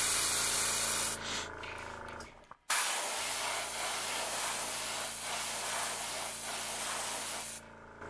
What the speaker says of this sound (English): we're going to spray this at the same angle